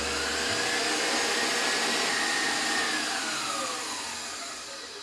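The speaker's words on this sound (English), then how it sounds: "I'm going to use my stand mixer because it makes my life a lot easier" Stand mixer whipping coconut macaroon mixture makes a loud, steady motor whir with a faint pitch rise and fall, holding close and constant before slowly easing off toward the end.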